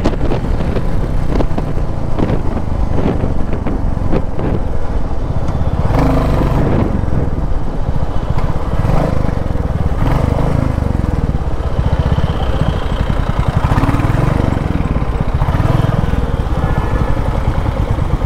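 A 2021 Royal Enfield Classic 350 motorcycle is ridden on the road, its steady engine drone and wind rumble loud and continuous throughout, with no voices.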